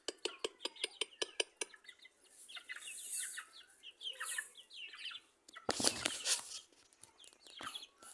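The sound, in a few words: chickens clucking on a farm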